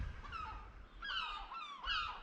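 Gulls call in repeated overlapping squawking bursts along a rocky stone coastline at Auchmithie, several birds crying together over steady wind and surf noise, fairly close and loud.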